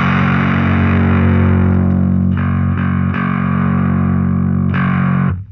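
A bass guitar rings out loud and heavily distorted through a two-channel setup, sustaining thick held notes that change pitch a few times before cutting off at the end.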